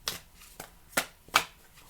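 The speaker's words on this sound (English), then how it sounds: "now let's shuffle it again." A deck of tarot cards is shuffled in four short, sharp bursts of riffling and slapping, spaced about a third of a second apart. The bursts are fairly close and quiet overall, with no speech.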